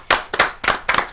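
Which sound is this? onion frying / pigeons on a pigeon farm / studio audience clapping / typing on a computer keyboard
studio audience clapping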